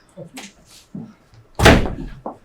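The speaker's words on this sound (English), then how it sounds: "I heard the door slam." A door slams shut with one loud, sharp bang amid quiet room sounds, preceded by soft footsteps and brief murmured voices.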